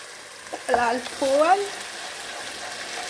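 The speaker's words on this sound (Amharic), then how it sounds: "ይሄ ትክትክ ሲልልኝ አሳያችኋለሁ።" Tomato, onion and garlic fry in oil for a lasagna base, giving a steady close sizzle with brief stirring bursts, while a voice speaks briefly over it.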